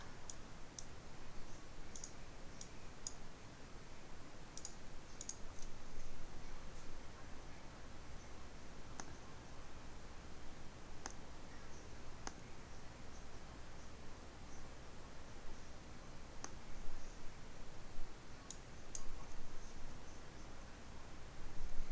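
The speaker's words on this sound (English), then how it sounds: "So I'm going to type in" Computer keyboard typing while working in Photoshop: quiet, sparse clicks and taps scattered over a faint hiss, with a few brief bursts of keystrokes and slightly busier clicking near the end.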